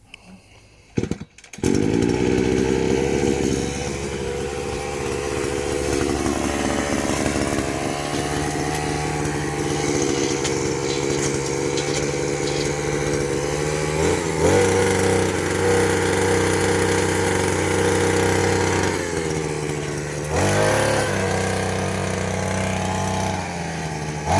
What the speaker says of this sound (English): This auger is an impressive tool, I must say.